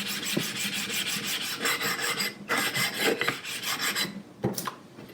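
Sharpening stone rubbed to flatten it, a loud gritty rasping back-and-forth in quick repeated strokes, close and alone.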